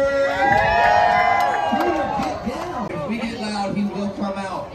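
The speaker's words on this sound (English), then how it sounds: "I want y'all get extra loud and make some noise for Cooter!" At a Gatorland alligator show, an excited crowd cheers, whoops and shouts, with children's voices among them, in a loud sustained burst that slowly settles, with an announcer's voice over it.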